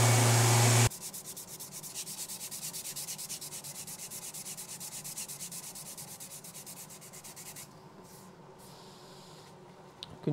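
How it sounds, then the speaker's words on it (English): An orbital sander works steadily across the back of a guitar body, smoothing an epoxy-filled finish with a continuous close rasping whir that runs almost the whole time and then trails off near the end. "I'm just gonna use the orbital to do the back"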